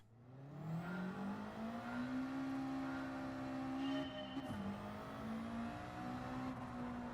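Subaru WRX engine in the racing game Gran Turismo 7, a steady droning hum that climbs gradually in pitch, dips briefly mid-run with a slight glitch, then holds a sustained tone at moderate loudness.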